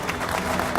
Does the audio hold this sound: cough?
no